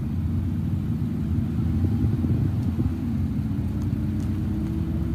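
A car rolls slowly forward through a school pickup lane, heard from inside as a steady low engine rumble and road hum with no talking.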